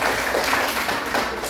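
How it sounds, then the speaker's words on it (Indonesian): Children clap together in a classroom in one steady, dense burst of applause, close and fairly loud, with no talk over it. "Tepuk tangan juga untuk."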